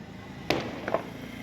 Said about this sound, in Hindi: ये भैया पटाखे चल रही हैं।